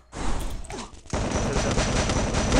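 A burst of rapid gunfire crackles loudly in the mobile shooter game Free Fire, played on an emulator in a tournament match, then a second, denser volley of shots follows and keeps going without pause.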